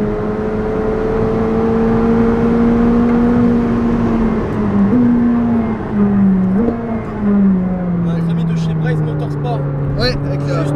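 A McLaren 765LT engine drones loudly from inside the cabin, its pitch rising and stepping down through several quick gear shifts.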